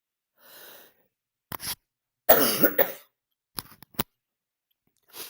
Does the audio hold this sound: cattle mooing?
no